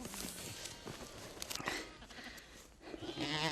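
Goats in a livestock pen on the Mongolian plains bleat repeatedly at close range, overlapping calls rising over a busy farmyard background with shuffling movement.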